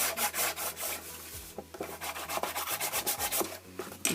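Rubbing strokes against a glued, folded cardboard box flap, a run of close, dry rasping scrapes in quick repeated bursts with no talking.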